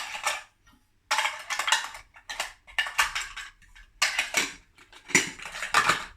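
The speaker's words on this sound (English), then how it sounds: "few more pots and pans and whatnot." Metal mess tins and pots packed into a car cook kit, clinking and clattering in quick irregular bursts of close metallic knocks and scrapes separated by brief pauses.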